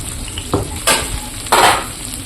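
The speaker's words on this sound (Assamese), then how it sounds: "পিঁয়াজখিনি ভজা হৈ গ'ল" Onions frying in oil in a home kitchen, a steady close sizzle punctuated by a few louder stirring scrapes and bursts.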